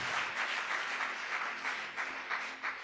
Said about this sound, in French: Put your hands together for the word of God.